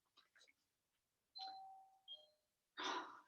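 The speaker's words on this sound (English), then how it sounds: "doorbell, bear with me." A doorbell chimes twice in a clear two-tone ding-dong, with a few faint soft sounds before it and a louder noisy burst at the end.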